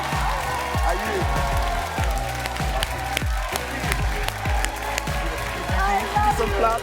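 Talk show studio audience applauding an arriving guest, dense continuous clapping with scattered cheers filling the room, while voices speak over it.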